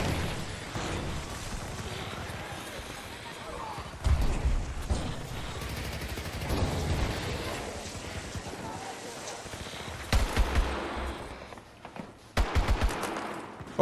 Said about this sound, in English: Freaking shoot into the dark and I get a hit marker and I stop shooting.